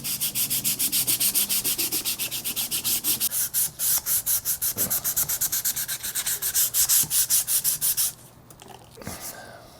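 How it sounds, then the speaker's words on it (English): A canary and maple guitar neck is sanded by hand with a sheet of DA sandpaper, giving fast, even back-and-forth rasping strokes close up. The strokes go on for about eight seconds, then stop, followed by a faint handling sound. "I'm just going to take a sheet of this DA sandpaper, and we're just going to start working on this"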